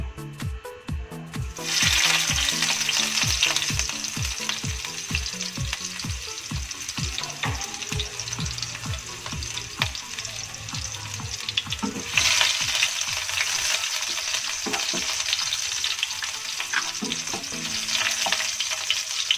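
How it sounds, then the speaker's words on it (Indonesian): Shallots and garlic hit hot cooking oil with a loud, steady sizzle, with clattering stirring and scraping in the pan early on, close up and continuous, no talking. "Minyaknya sudah panas, jadi sekarang kita masukkan bawang merah dan bawang putih"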